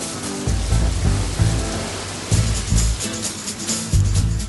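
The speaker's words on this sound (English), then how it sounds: "in typical British fashion, the rain only gets worse" Rain falls outdoors at a British event setting, a dense steady patter with gusty swells and some low rumbling bumps, fairly close and loud.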